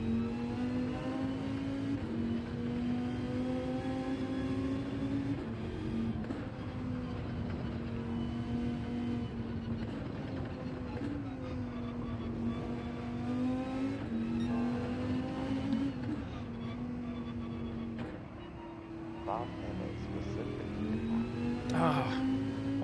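A Lexus LFA in Gran Turismo 7 races with a high, strained engine whine that rises and falls through repeated gear shifts, steady and continuous while a voice talks over it.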